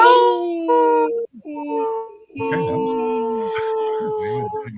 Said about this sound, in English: a legit wolf howl